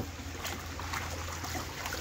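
Water splashes and trickles steadily as a dog's ball is rinsed and dunked, a close, continuous watery churn with no talking.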